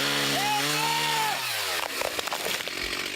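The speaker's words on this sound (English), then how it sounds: "They had a lot of chainsaws going out here today." Several chainsaws run at a fire-scorched work site. One engine revs up to a steady high whine, holds it, then drops off into rougher, clattering broadband noise.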